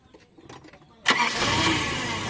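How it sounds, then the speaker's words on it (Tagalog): Toyota Tamaraw FX engine cranking with a few short, faint turnovers, then catching abruptly and settling into a loud, rough running idle nearby. "Pa-switch off ko ulit itong makina mga boss para sigurado tayo kung i-start ulit itong sasakyan niya."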